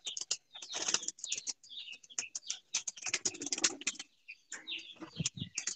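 Breeding pigeons in a loft give soft cooing and chirping calls that overlap with fluttering and small clicking handling sounds, moderately close and continuous without speech.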